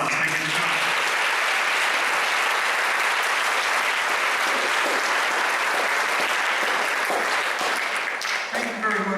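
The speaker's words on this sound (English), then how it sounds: "a nice round of applause" Sustained applause from an audience at an adult education graduation ceremony, a dense, steady clatter of many hands that runs evenly from start to end, with brief voices near the close.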